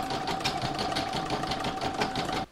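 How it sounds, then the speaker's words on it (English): A sewing machine runs the quilting round on the centre of a heart placemat held in an embroidery hoop, giving a loud, close, rapid rhythmic chatter with a faint whine before it halts. "I'm going to stitch round number 4, which is the quilting of the center"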